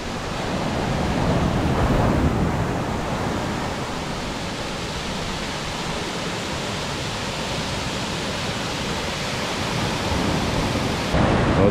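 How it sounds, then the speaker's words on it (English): Waterfall at the foot of cliffs at Tintagel, Cornwall, near the sea: a steady, loud broadband rush of falling water filling the whole stretch without a break, with no voices over it. "And the waterfall is obviously here."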